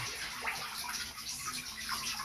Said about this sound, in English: cold water is coming out of the ice right now